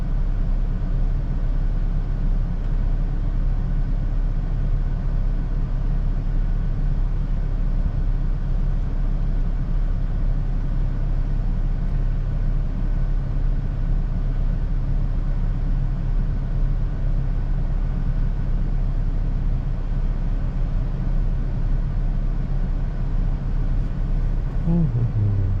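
A Toyota Tacoma pickup with 140k miles drives along, giving a steady low engine and road rumble from inside the cab that stays constant for the whole stretch, with no voices.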